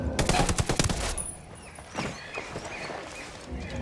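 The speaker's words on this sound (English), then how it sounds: "I'm opening fire" A short, dense burst of rapid gunfire opens a Ghost Recon Wildlands firefight and then gives way to a rumbling noisy backdrop.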